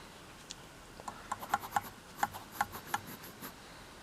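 Pencil lines on a dinosaur drawing rubbed with a fine eraser, a quick series of soft, close scratchy strokes in an uneven rhythm, faint and alone.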